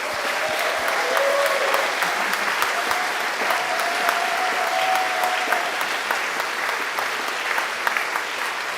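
An evening audience at the Tech-Xpo 2022 event breaks into a big round of applause, steady and full clapping throughout, with a faint voice briefly heard beneath the clapping.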